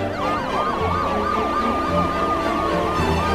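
Ambulance siren wailing in a steady rising and falling cycle, loud and close, with traffic rumble underneath and no talk.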